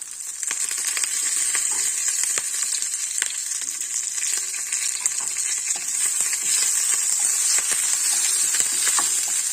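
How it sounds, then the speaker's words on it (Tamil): Green chillies and curry leaves sautéing over a low flame, a dense continuous hiss and crackle with faint scattered stirring ticks throughout. "அடுப்பை வந்து நம்ம குறைச்சி வச்சுக்கிட்டு சிம்மில் நல்லா வதங்கணும்"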